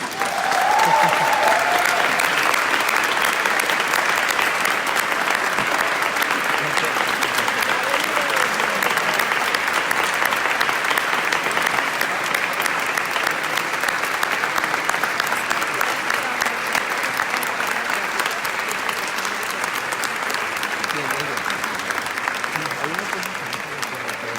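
An audience claps after a speech at a debate on graffiti, producing steady, sustained applause from a sizeable crowd that carries on without a break throughout.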